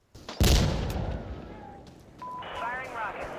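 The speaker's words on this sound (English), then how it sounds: "Rockets incoming." A loud rocket blast in Insurgency Sandstorm bursts out early and rumbles as it decays. Radio-style voice chatter and electronic tones follow.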